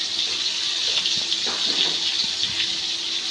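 Tap water runs steadily while lentils are rinsed in a bowl, a close, continuous splashing gush with small irregular ripples and no voices.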